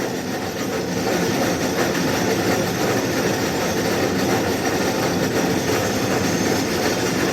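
A DIP-500 lathe turns metal rings held in a four-jaw chuck, giving a loud, steady, unbroken machining roar with a constant mechanical hum throughout and no voices.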